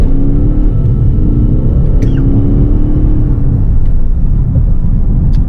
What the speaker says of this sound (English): So thanks to that 811 pound-feet of torque, the car rockets forward.